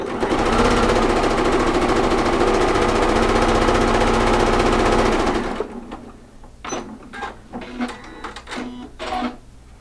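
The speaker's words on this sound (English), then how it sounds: "now we sew the final triangle onto this half hexagon" Sewing machine stitching a triangle onto a half hexagon quilt block made from jelly roll strips, a loud, close, steady whirring run for about five seconds, then stopping and followed by a few light clicks and handling sounds.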